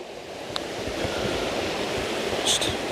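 Steady broadband rush of a waterfall in hilly waterfall country, heard continuously over the whole stretch from nearby, with a couple of faint higher clicks on top.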